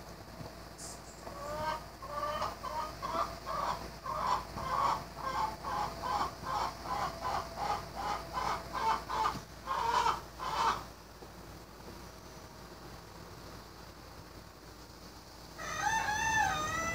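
A pet chicken clucks in a rapid run of repeated calls for about ten seconds, then after a pause lets out a short crowing call at the end, fairly close with no talk.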